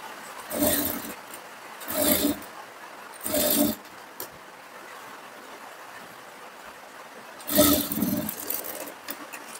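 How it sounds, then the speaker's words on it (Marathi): Sewing machine topstitching a folded strip on a katori blouse, running in four short bursts of about a second each with quiet pauses between them. "हात शिलाईची पट्टी आहे त्याच्यावरती तुम्हाला दाब शिलाई द्यायची"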